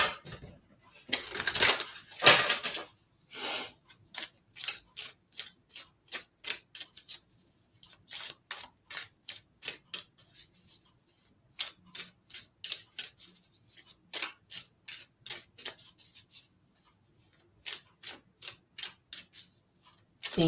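Tarot cards are shuffled in a quiet room, a long series of short crisp riffling bursts in an irregular rhythm, close and fairly soft, with brief pauses between runs.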